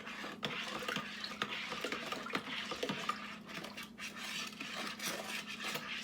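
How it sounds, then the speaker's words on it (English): A spoon stirs a sugary bee feed mixture in a container, making quiet, repeated scraping and rubbing strokes with soft clinks, faint and close over a low steady hum. "you want to take your spoon now and we're going to stir that"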